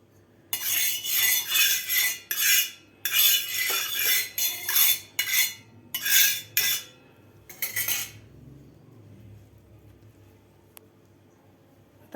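Oil is spread across a hot tawa with metal utensils, making a series of quick, rhythmic scraping and clinking strokes for about eight seconds, then the cooking goes quiet apart from a faint click.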